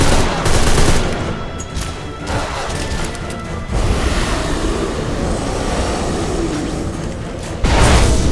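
Rapid bursts of enemy gunfire from old-fashioned guns in the Deadfall Adventures video game, loud and near, sustained through the clip with dense crackling volleys and a sharp new burst near the end.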